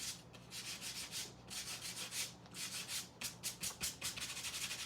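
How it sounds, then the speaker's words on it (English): A sanding block rubbing back and forth across gold paint on a stencilled surface in quick, rhythmic scratchy strokes, close up and with no talking. "just use one of these little sanding blocks"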